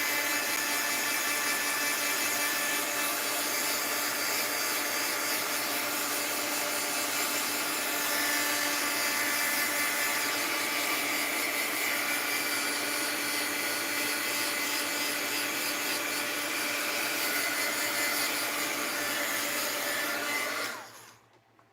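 A heat gun blowing continuously on sewn craft strips to dry them, a loud steady whooshing whine close by that runs unbroken and then cuts off abruptly at the end.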